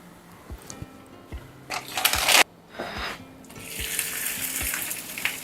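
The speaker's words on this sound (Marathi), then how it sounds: "आता आपण त्याच्यावर थालीपीठ टाकूया." A cucumber thalipeeth is laid onto a hot cast iron tawa, giving a sharp burst of sizzling that fades, then a steady hiss of frying settles in beneath soft, regular thumps.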